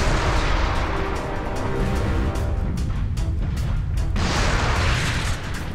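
A grenade blast in the game Warhammer 40,000: Space Marine, a loud heavy boom followed by sustained rumbling battle noise and debris, dense and continuous throughout.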